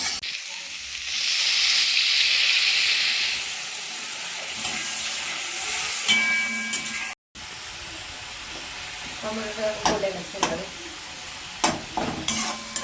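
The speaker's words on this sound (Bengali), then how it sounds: "মশলাটা একটু ভালো করে কিন্তু কষাবো" Spice paste frying in a pan for an egg and potato curry: a loud, steady sizzling hiss swells early, then gives way to quieter frying broken by the clatter of stirring with a spatula.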